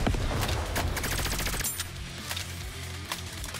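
A dense burst of rapid gunfire as characters unleash their ultimates together in the video game NIKKE, loud and rattling for under two seconds before thinning into a few scattered shots.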